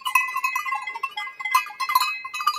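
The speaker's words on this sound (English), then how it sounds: "there's a very, very noisy cow" Cow on a mountain pasture in Uri, Switzerland, giving repeated bleating, nasal calls close by, with bells clinking faintly between the calls.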